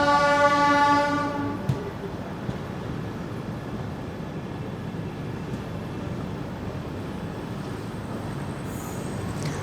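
The 16337 Okha–Ernakulam Express sounds a loud horn blast, then settles into a steady rolling rumble as it eases into the loop line of platform 1 at Kozhikode station.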